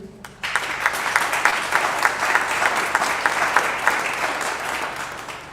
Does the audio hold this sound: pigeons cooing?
no